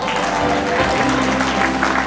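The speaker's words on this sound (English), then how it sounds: "A round of applause for lovely Mele Sui'ava" Guests at a wedding reception applaud a named guest, a dense, even wash of clapping that carries through the whole moment.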